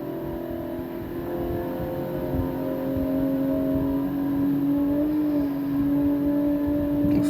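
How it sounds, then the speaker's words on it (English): A Valiant VH RT E49 Charger's 265 Hemi six-cylinder engine hums in a steady, moderately loud drone, its pitch edging upward as the revs climb, with no talking. "And they were a high revving engine, the 265 Hemi."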